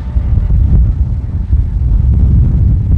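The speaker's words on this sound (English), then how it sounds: "it is definitely windy up here." Strong wind roars across an open hilltop near Wanship, Utah, a loud continuous rumbling buffet against the microphone with gusty swells and no speech.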